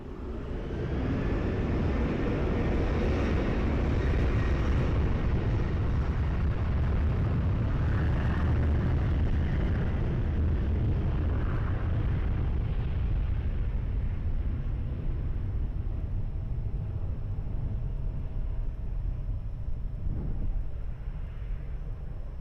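A plane takes off from runway 20 at Lisbon Airport, a loud, sustained jet roar that stays powerful throughout and slowly thins as the aircraft climbs away.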